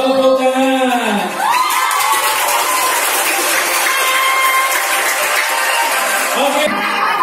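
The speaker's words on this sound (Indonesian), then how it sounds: "Tepuk tangan." Loud applause and cheering from a school audience at an angklung performance fill the space, with shouting voices on top and the clapping continuing throughout.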